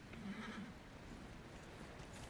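A horse in the video game Dragon Age: Inquisition whinnies briefly at the start, faint and soft under a murky game ambience with low rumbling.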